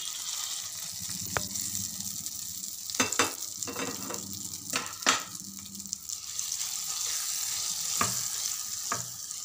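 A spoon stirs a sizzling oil tempering through tomato chutney: steady frying hiss with a handful of sharp scraping knocks against the pan, close by and moderately loud.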